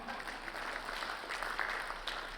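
Applause from a small group in a room, a soft, steady patter of hand claps that goes on evenly throughout, fairly faint and with no voices over it.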